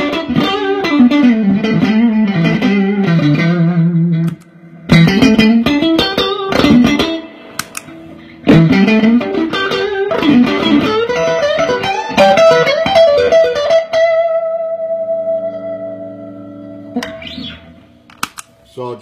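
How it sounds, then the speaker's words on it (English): Electric guitar through an overdrive pedal plays a gritty run of chords and riffs, pausing briefly, then ending on a long ringing sustained note. "So you're going to hear more distortion out of this."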